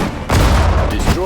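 Dense battle gunfire in the World War II strategy game Sudden Strike 4, Hurtgen Forest fight, a loud burst of overlapping shots and booms, with a unit voice faintly underneath.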